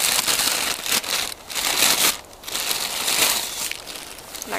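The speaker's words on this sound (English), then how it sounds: "I pack it in a plastic bag because it can be kind of messy" An Ikea hobo stove is packed into a plastic bag outdoors on a winter day, giving bursts of close, crisp crinkling and rustling with brief pauses between handlings.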